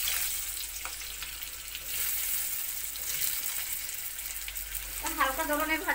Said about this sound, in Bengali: আলুগুলি ভাজা করবো।